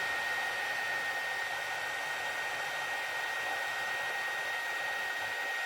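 A heat gun blows steadily and loudly without a break, shrinking a plastic solder sleeve onto a wire joint during a lighting modification on a Honda FCX10 LC80.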